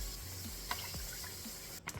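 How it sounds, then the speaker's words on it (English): Cold water is poured into a blender for chile sauce, a soft, brief trickle and splash with a few faint clinks, quiet and close. "Cold water in there."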